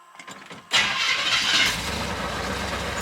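A classic car that has sat for about five days cranks and fires after its fuel pump is primed, faint clicking giving way to a loud engine catch that settles into a steady idle.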